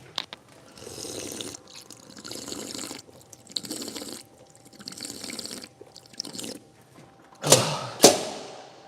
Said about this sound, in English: I'm going to get a little glass of water